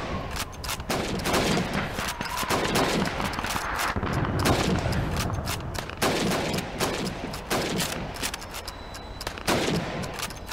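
Rifle fire in Call of Duty 2 on a shooting range, a dense, continuous barrage of loud overlapping gunshots for several seconds with no pauses and no speech.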